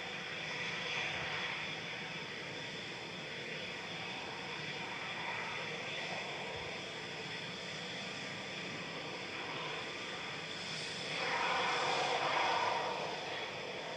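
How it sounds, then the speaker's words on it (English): An Airbus A320neo taking off from runway 23 left at Manchester Airport, a steady distant engine roar that swells slightly toward the end, with no talking. "SE ROI A320 Neo lined up and ready to go on 23 left."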